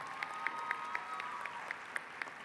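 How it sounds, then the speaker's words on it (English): A commencement audience gives an extended round of applause, the clapping distant and faintly blended into a wash, with a few crisp nearer claps recurring at a steady pace. "Let's give her another round of applause."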